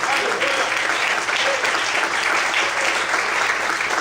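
A church congregation claps together during an evening worship service, dense steady applause filling the room throughout, with a faint voice underneath.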